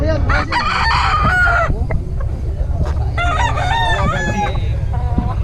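Chickens cluck and roosters crow repeatedly at a market stall in the rain, loud and close, with other birds calling over a busy background.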